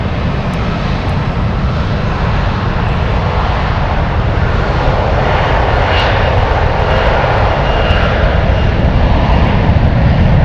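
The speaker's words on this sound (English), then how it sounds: "FedEx 767. They have to hurry. They're trying to get out of Frankfurt." A FedEx Boeing 767 cargo jet at Frankfurt airport gives off a loud, steady engine roar that holds throughout, broad and close with a faint rising whine near the middle.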